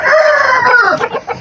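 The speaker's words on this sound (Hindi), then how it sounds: "ये मुर्गा माशाल्लाह काफ़ी खूबसूरत है" A rooster crows loudly and close by, one long drawn-out call that holds steady and then breaks into a few shorter, falling notes near the end, with no talking over it.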